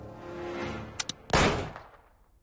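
A pistol firing blanks in an Agatha Christie mystery video game: two quick small clicks, then a single loud, close gunshot that rings out and fades over about a second.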